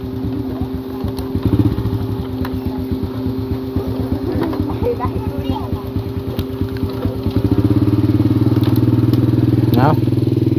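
A motorcycle being ridden in rural Thailand gives a steady, throbbing engine drone that rises to a louder, fuller rev near the end, with people talking over it.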